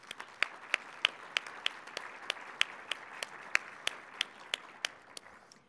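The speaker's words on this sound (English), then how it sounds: "If you could join me in giving them a round of applause." Sparse applause from a small audience at a Minnesota brownfields vapor intrusion event, individual claps standing out as sharp, evenly spaced slaps over a soft wash of clapping that thins out toward the end.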